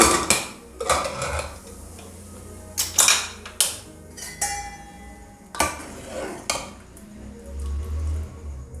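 A pressure cooker of lentil curry is opened after whistling: a series of sharp metallic clanks and lid knocks come in uneven bursts, close by, with quieter pauses between and a low rumble near the end.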